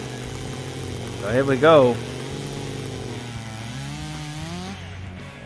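A Stihl MS400 chainsaw cuts through wood in a chainsaw race. The engine revs up loudly in two strong bursts and then drops to a steady idle. Someone speaks briefly over it.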